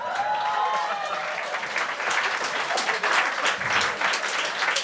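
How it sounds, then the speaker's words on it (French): Audience applause at a comedy gong show, with hands clapping briskly in a lively crowd and distinct individual claps standing out, a voice briefly audible at the start. "Est-ce qu'on pourrait donner une bonne main d'applaudissement à mon papa qui est venu me voir ce soir?"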